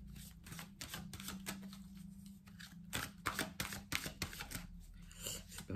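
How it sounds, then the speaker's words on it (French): Oracle cards are shuffled by hand close up, making rapid crisp riffling and flicking bursts with irregular pauses and some louder slaps toward the end. "on bat les cartes pour vous"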